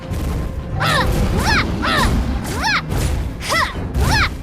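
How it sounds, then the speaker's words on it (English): Turret destruction in a mobile battle-arena game: repeated chirping, rising-falling synthetic effects over a dense, loud bed of crashing and thudding game noise, several bursts in quick succession. "Your team destroyed a turret."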